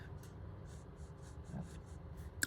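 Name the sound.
Jinhao fountain pen with extra fine nib writing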